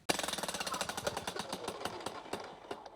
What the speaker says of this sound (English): Let's go use the jackhammer.